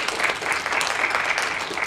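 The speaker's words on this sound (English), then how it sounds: "let's have a round of applause, please." A crowd claps in a lively round of applause at a ReplayFX pinball expo, with dense, close hand claps and a few sharper individual claps standing out.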